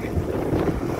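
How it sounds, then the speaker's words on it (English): Gusty wind buffets the microphone at a waterfront in St. Thomas, Jamaica, a steady low roar lasting about a second with no speech. "Very windy out here."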